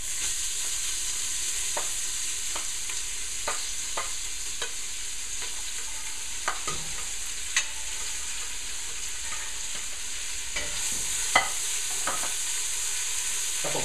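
Diced onion, carrots and celery sauté with pancetta in olive oil, a bright steady sizzle near at hand. Scattered spoon scrapes and taps come every second or two from stirring, and no one speaks.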